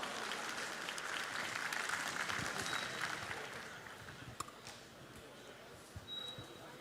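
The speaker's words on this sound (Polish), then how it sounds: "raz jeszcze wielkie brawa!" Crowd applause at an MMA gala studio segment, a diffuse, fairly faint clapping that swells early then thins out, with a couple of sharp isolated knocks and some voices murmuring underneath.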